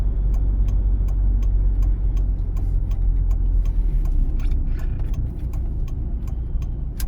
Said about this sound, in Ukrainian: Вмикаємо правий покажчик повороту.